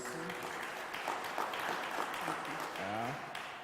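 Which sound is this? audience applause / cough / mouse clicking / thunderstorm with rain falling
audience applause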